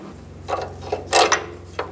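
Ratchet wrench clicking while removing a lower control arm bolt on a Nissan Xterra, a few short bursts of close metallic pawl clicks over a low steady hum, no voices.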